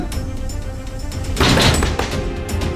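Loud thumping bangs on a closed door, a burst of heavy knocks mid-way followed by a few lighter hits, close and prominent with no speech over them.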